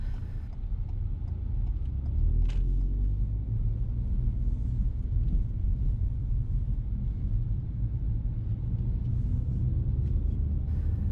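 Low, steady rumble of a car creeping slowly in first gear toward a tight left turn at a junction, with a constant engine drone heard from inside, no voices.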